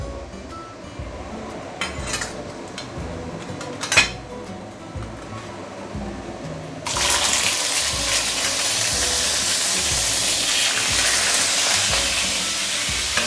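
Fish hits a smoking-hot non-stick pan and bursts into loud, steady hissing sizzle, preceded by a few clinks of utensils against cookware, with no talking.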